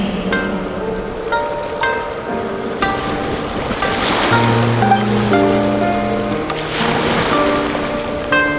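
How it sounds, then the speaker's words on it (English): Ocean waves in the video game Genshin Impact wash steadily beneath a gentle melodic music track, a soft continuous surf that swells slightly in the middle, with no voices. "Go to where you can hear the sound of the waves."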